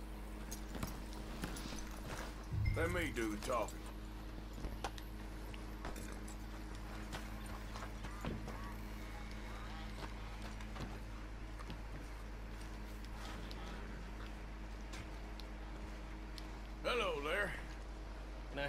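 Horse hooves clip-clopping in the video game Red Dead Redemption 2, faint, irregular footfalls under a low steady hum, with brief louder bursts near the start and end.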